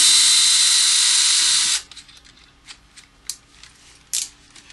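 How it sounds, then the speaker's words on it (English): Screws being removed from an electric guitar's pickguard, with a steady whirring burst for nearly two seconds followed by scattered small clicks and taps, close by with no talking. "pull all the pickguard screws out first"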